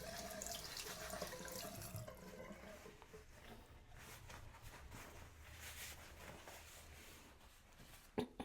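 Water running steadily from a bathroom tap while small parts are rinsed under it, a continuous close splashing hiss with slight shifts as the items move through the stream, then a few clunks at the end.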